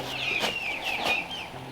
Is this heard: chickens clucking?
yes